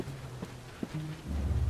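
Rain falls in a London street scene in the video game Assassin's Creed Syndicate: a steady wash with low rumbling underneath that swells near the end, no one speaking.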